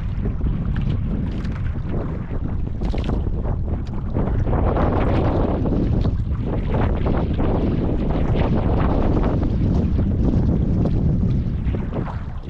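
Strong wind roars and buffets the microphone continuously, with rushing gusts and water splashing around a boat, loud and close throughout.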